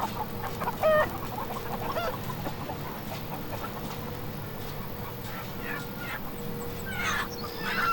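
Chickens cluck in the Farm Manager 2018 video game, several short clucks and squawks scattered over a steady low background hum, fairly quiet, with a louder burst near the start and more calls toward the end.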